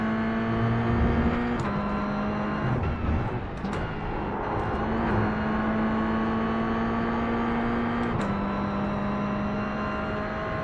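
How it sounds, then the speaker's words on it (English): Mazda MX-5 race cars in the iRacing sim at Virginia: a steady, loud engine drone holds at one pitch with brief shifts and dips, as if cars run flat out down a straight, continuous throughout with no talk. "MX-5's faster on the straight, slower in corners, but has not so many corners here at Virginia, so MX-5 just pulling away."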